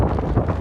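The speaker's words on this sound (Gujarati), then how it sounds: "પવન છે બહુ પવન છે" Strong wind buffets the microphone outdoors in a village, a dense low rumbling roar that stays steady and loud for a brief moment.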